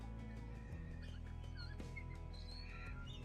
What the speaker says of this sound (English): There's a bird whistling in the tree